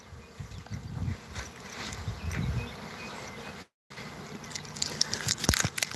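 Bees stirred up at a mobile home community drone faintly in a steady buzz, mixed with nearby handling noises and a few sharp rustles and clicks, with no voices.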